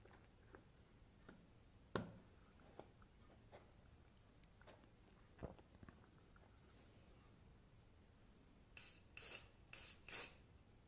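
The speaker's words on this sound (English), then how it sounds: "This is the area I sprayed" Short bursts of imported, EU-made hairspray from an aerosol can, several quick hisses near the end after scattered soft taps and handling noises, fairly faint and close.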